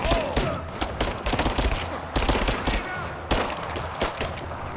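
Dense, rapid gunfire from the Dune: House Harkonnen video game, a sustained fusillade of loud, overlapping shots with a few sharper bursts standing out.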